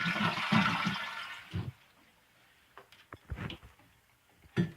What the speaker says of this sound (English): you'll want to flush your commode to drain it from water